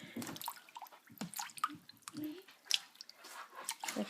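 Blanched kale stirred by hand in a bowl of cold water, giving soft, close sloshing, squishing and dripping sounds in irregular bursts at low volume.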